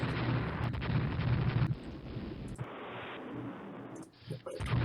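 A torpedo striking a warship in the naval strategy game Rule the Waves, a heavy rumbling blast that surges and fades over several seconds, with someone talking over it.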